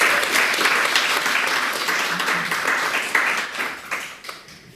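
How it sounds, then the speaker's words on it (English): A crowd applauds steadily for an awards round at a sustainability challenge, dense clapping holding loud and even before thinning and fading toward the end. "a round of applause for all 5 projects"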